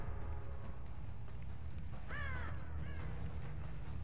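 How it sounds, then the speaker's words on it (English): Crows caw in Dead by Daylight, two hoarse calls standing out over a constant low game ambience midway through, alone with no talk. "Oh, I just heard crows."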